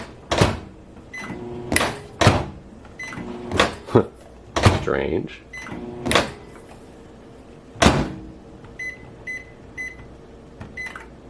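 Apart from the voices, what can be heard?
microwave oven starting after pushing the door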